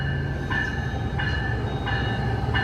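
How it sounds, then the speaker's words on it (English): An Amtrak Capital Corridor train led by an SC44 Charger locomotive approaches Oakland Coliseum station, a steady loud rumble with a repeating tonal ring or squeal recurring roughly every 0.7 seconds, no voices. "Once again, Amtrak 529. Now approaching the Oakland Coliseum Amtrak station."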